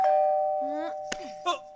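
A two-tone ding-dong doorbell chime in a Hindi comedy film scene, sounding clearly over a sustained tone, with brief speech around it.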